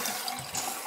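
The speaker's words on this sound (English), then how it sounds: "we'll just open this faucet here and let it drain down here" Water rushes from an opened bathroom faucet as the supply lines drain. The flow is a steady, close hiss with no break.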